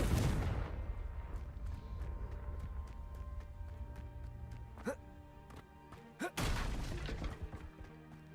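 A Confringo fire spell from Hogwarts Legacy bursts loudly at the start, followed by scattered game clicks and thuds, with another sharp blast near the end; voices carry in the background.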